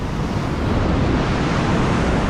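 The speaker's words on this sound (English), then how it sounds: "Talk about big waves, yo." Large ocean waves crash and surge onto a rocky Australian shoreline, a loud, continuous roar of surf with wind buffeting the microphone throughout.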